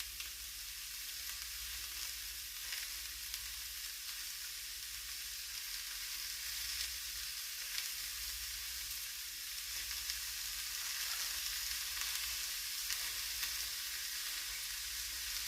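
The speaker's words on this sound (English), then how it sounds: "So I can hear it starting to sizzle." Corned beef and cabbage sizzle steadily in a hot pan, a continuous bright hiss with faint crackles and no voices throughout.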